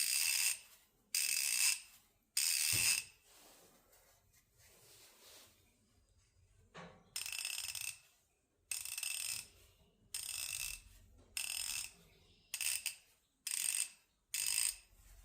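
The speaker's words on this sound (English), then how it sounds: "This ratchet does not sound any different." A Craftsman V-series ratchet clicks in rapid bursts, each a few seconds long with short pauses between, close and crisp. The bursts repeat throughout, and no one speaks.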